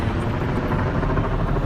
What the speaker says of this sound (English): There's one of the helicopters.